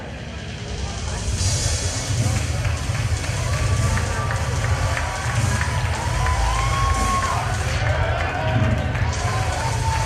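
A sold-out wrestling crowd roars steadily, a dense, loud wash of cheering and shouting voices that holds without pause, with a commentator talking over it.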